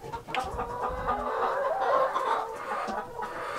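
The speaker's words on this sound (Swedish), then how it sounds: "I redet där hönorna ligger och värper äggen" Hens cluck and murmur inside a mobile henhouse where they lay their eggs, a steady, close chorus of soft overlapping calls against a constant low background drone.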